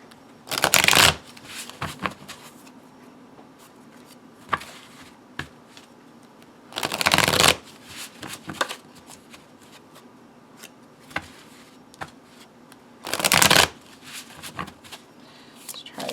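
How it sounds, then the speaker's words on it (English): Three bursts of tarot cards being riffle shuffled, each a quick fluttering rush, separated by quieter taps and handling of the deck. "Give a very satisfying riffle."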